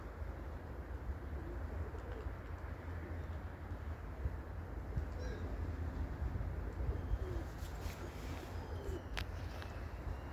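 Low pigeon cooing murmurs steadily beneath a constant broadband rumble, with a few brief sharper noises near the end and no voices.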